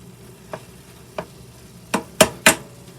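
Food cooks in a pan under a faint, low sizzle while five sharp clatters ring out at uneven intervals, the last ones loudest, likely a utensil striking the pan.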